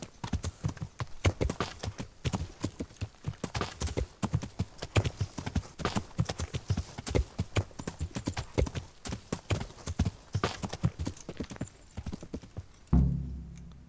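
Horse hooves on the ground in the video game Kingdom Come: Deliverance, a brisk, steady clip-clop gait of close, sharp knocks continuing throughout, ending with a short low thud near the close.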